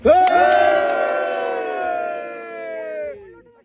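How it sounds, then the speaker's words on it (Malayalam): Tourists riding a ropeway in Armenia cheer together during a hailstorm, a loud sustained group whoop of raised voices lasting about three seconds before tapering off. "അതിന്റെ ഒരു ആരവം ഇപ്പൊ എല്ലാവരും കേൾക്കാം"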